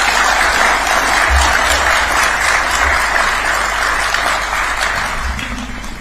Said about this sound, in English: Another warm clap for His Excellency.